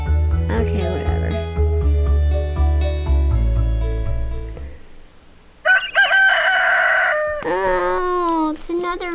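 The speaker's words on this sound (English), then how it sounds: "Oh, it's another rooster." A rooster crowing in the Stardew Valley video game, a bright, clear cock-a-doodle-doo call that comes twice after a stretch of game music.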